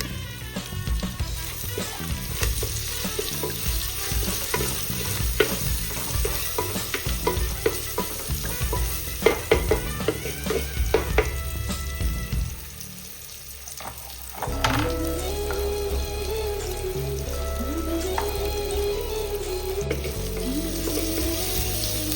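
Chopped onion sizzles and crackles in hot oil while being stirred for drumstick-stem soup, with scraping and brief water splashes in the middle.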